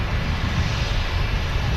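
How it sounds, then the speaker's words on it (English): A Loganair passenger airliner taxiing past at Manchester Airport, its engines a loud, steady, close rumble and roar that holds without a break, with no talk over it. "We get a great view of her though as she taxis past us."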